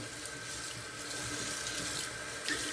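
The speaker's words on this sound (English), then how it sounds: "I'm going to rinse off the puck." Running tap water pours steadily over a shaving soap puck being rinsed at a sink, a continuous close splashing hiss with slight shifts in flow, no talking.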